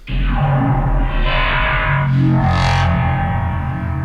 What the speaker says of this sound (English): But if you throw the Convolver on it, then it's going to sound like this.